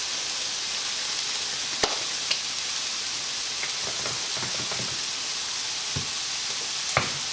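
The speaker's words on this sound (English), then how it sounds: "we continue to saute and stir all the yummy vegetables in" Vegetables sauté for an Italian-style cheesy pounded chicken dish, giving a steady close hiss of sizzling oil broken by a few sharp clicks of a utensil against the pan.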